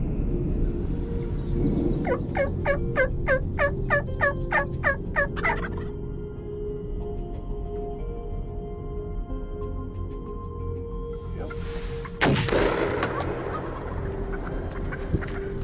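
Turkeys gobbling outdoors, one loud rapid rattling gobble early on, then a quieter stretch over steady background hum, and a second sharp burst later.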